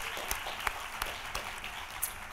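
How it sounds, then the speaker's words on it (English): An audience applauds at the AERA Spencer Lecture 2018, an academic conference event held in a hotel suite. The clapping is steady and dense, with a few sharper individual claps standing out. "Round of applause."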